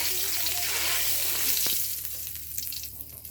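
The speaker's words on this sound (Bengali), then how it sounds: "আমি এই আলুটা ভেজে নেবো এখন" Potatoes sizzle as they fry in a pan, a loud hiss that is strongest at first and then eases, with a few scraping stirs.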